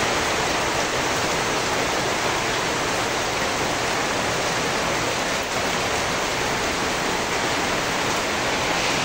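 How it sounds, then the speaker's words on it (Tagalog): Rain pouring into a home kitchen whose roof has been removed, a steady, dense, loud hiss of falling water that holds unbroken throughout. "Kasi umuulan na po."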